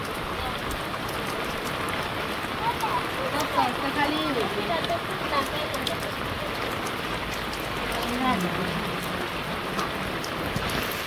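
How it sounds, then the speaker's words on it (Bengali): Steady heavy rain pours down throughout at a village fishing spot, a dense hiss of drops on surfaces, with some faint voices and movement mixed in. "আজকে বৃষ্টি বেশি আজকে।"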